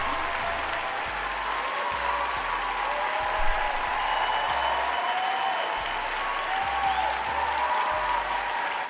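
Steady, dense applause from a crowd, a continuous clapping wash that holds at an even level throughout without any voices.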